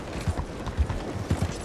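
Horse hooves clip-clop in Red Dead Redemption 2, a handful of soft, uneven low thuds close by over a steady background hum.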